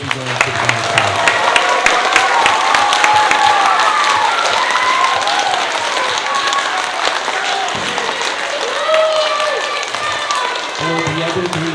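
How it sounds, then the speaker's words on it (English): Sustained audience applause fills a spelling bee hall for the top two spellers, a dense, steady wash of many hands clapping together, with faint voices mixed in near the edges. "So you can give a round of applause for our top two spellers today."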